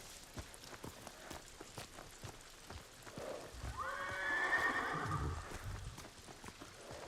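A horse whinnies loudly mid-clip over a steady patter of hooves clip-clopping, with soft rain-like ticking in the background, in the video game Ghost of Tsushima.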